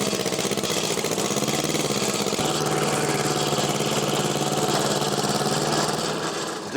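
A turbocharged engine fitted with an oversized turbo runs hard under load, giving a loud, continuous, close mechanical drone with a slight shift in tone partway through and no talking.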